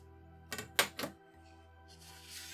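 Paper trimmer blade pulled down to cut a folded sheet of paper: a few close, crisp clacks and a quick cutting rasp, then a soft rustle as the paper moves.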